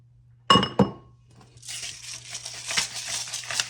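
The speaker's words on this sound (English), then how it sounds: "Okay, I'm gonna pour the milk." Milk is poured from a jug over sliced scalloped potatoes in a baking dish, with a steady close splashing hiss after two sharp glassy clinks.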